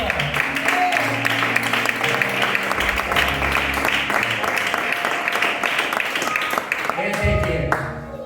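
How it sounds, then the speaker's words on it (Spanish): A church congregation applauds during a sermon, a steady, sustained wash of clapping layered with voices and music, tapering off near the end. "Fuerte el aplauso para Dios"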